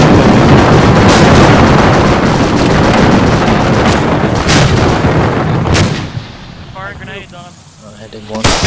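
Grenade explosions and gunfire in the video game ArmA, a dense run of loud booms and sharp shots for several seconds that then thins out as a voice briefly speaks near the end.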